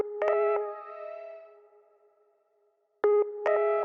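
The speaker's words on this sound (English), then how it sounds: "the plug from Omnisphere. It's called Radio Tone Melodies." Omnisphere Radio Tone Melodies synth plug-in playing a short repetitive melody: bright, buzzy tonal notes with a radio-like timbre, a quick cluster of notes that rings out and decays, then another burst of notes after a pause, no talk.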